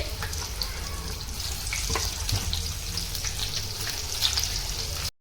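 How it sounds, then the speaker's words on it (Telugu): Cut chilli bajji pieces fry in hot oil with a continuous loud crackling sizzle and scattered pops, ending in a sudden cut. "కట్ చేసుకున్న బజ్జీలో నూనెలో వేసుకుందామండి"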